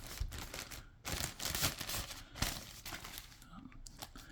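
Close, crackling crinkles of a plastic bag wrapped over the back hair of a newly unboxed Sneaky Boise Sheepish Sapphire figure, in irregular bursts mixed with handling noise, with quiet speech at moments.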